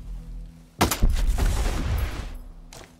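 A loud burst of automatic gunfire aimed at a turret in the Ghost Recon Breakpoint video game, sharp rapid shots that start abruptly and rattle on for over a second, then a single late crack, with no talk over it.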